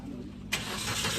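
A Maruti Suzuki Baleno car's engine starts with a sudden loud catch and settles into an even running hum, close by, over a low background.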